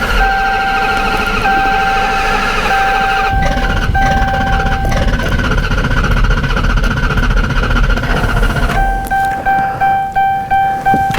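A 2012 Dodge Charger V8 with a misfire, cranked at length: several seconds of steady churning engine noise under a chiming tone, ending in a short series of rhythmic pulses.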